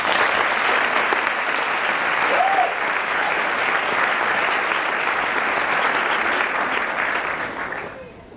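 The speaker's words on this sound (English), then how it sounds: "I think we all need a big round of applause" A pageant audience breaks into a big, sustained round of applause at the 1994 Miss Hudson Pageant, dense steady clapping filling the hall and fading out at the end.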